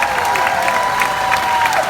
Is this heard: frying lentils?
no